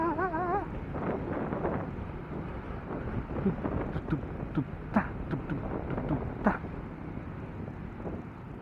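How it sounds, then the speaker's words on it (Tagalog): Strong wind after a typhoon rumbles and buffets against the microphone along EDSA in Quezon City, with gusty blustering noise and a few sharp knocks, while a brief voice is heard at the start. "medyo malakas-lakas pa rin yung hangin"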